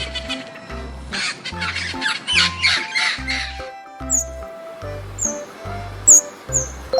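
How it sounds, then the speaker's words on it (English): Parrot squawking in harsh, repeated bursts, several loud rasping calls spaced irregularly, with sharper chirps toward the end over a steady layered background tone. "Parrot."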